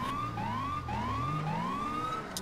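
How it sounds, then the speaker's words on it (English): A wailing NYPD police siren rises and falls repeatedly in steady cycles, fairly close and loud, with faint traffic rumble underneath. "I hear sirens"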